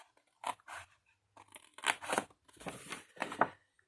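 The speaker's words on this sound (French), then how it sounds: "il faut couper tout droit" Scissors cutting straight through paper give several short crisp snipping and shearing bursts close by, separated by brief quiet gaps, with no talk.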